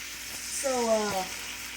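Steak pieces sizzling in a hot pan, a steady close hiss with a brief tonal scrape as the meat is shifted around; no talk.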